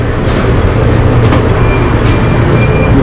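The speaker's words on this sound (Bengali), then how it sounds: "আমার ট্রেন চলে আসছে।" A Calgary Transit train running, heard close from inside a car: a loud continuous rumble with faint rail clatter and a thin whine, no speech.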